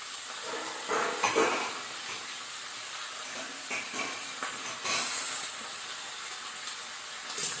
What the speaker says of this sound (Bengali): শুধু হলুদ দিয়ে ভেজে নেবো